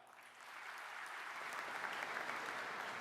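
An audience at a Microsoft Dynamics 365 opening keynote answers a question with applause, a steady crowd clapping that grows slightly louder and stays even and distant throughout, with no talk over it.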